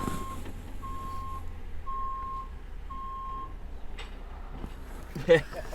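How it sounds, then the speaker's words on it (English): A truck's reversing alarm sounds four steady, evenly spaced beeps over a low engine rumble at moderate distance, with a brief louder knock near the end. "What is that truck?"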